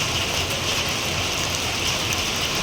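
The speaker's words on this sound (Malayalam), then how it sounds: "എന്ത് ജാതി മഴയാണെന്നറിയോ" Steady, dense rainfall pours down without a break, a loud hiss of heavy rain drumming on surfaces close by.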